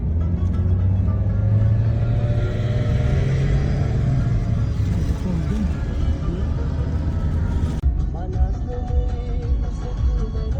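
A car driving through rocky valleys in Tajikistan, on the left side of the road, gives a loud, steady engine rumble with road noise throughout, shifting in character partway through; no one speaks.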